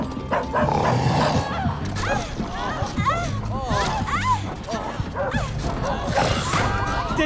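A dog barking in a film scene, repeated yips and barks mixed into a busy soundtrack with talking and music over them, moderately loud throughout.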